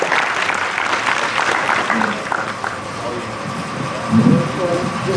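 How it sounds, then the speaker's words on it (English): An outdoor crowd at a Black Perspective march applauds a speaker. The clapping is moderate and continuous, with voices and cheers mixed in and a low rumble in the background. "Let's give her a round of applause"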